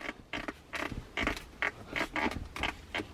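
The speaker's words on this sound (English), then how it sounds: "The armrest creaks quite badly." A series of short, dry creaks from the centre armrest of a 2022 Hyundai i20 N repeats in an uneven rhythm, close up, with no talking.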